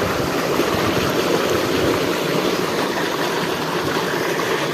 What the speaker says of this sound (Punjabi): ਲਓ ਜੀ ਬਾਈ ਚਲਾਤੀ ਮੋਟਰ ਆਪਾਂ ਨੇ ਬਾਬੇ ਦੀ ਕਿਰਪਾ ਨਾਲ